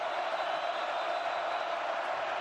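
A raucous sellout stadium crowd at a Notre Dame college football playoff game, a steady, dense roar of many voices with no breaks, heard from a distance and without any single voice standing out.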